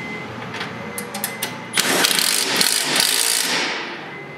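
Ratchet tightening the sway bar link bolt on a Polaris RZR Pro XP, a run of quick close clicks building into a steadier, louder mechanical ratcheting burst before tapering off.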